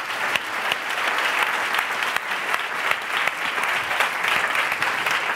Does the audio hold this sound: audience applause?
yes